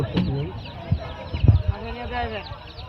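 Chicks for sale at the Sakhipur animal and bird market give short clucks and chirps among the busy surroundings. Voices murmur nearby in the background.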